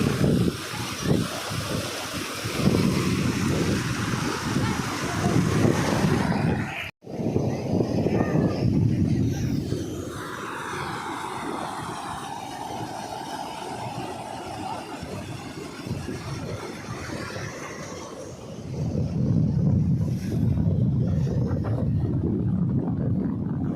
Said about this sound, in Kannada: ಸೊ ಇಲ್ಲಿಂದ ನೋಡಿ ನೀರು ಬರುತ್ತೆ ಈ ಡ್ಯಾಮ್ಗೆ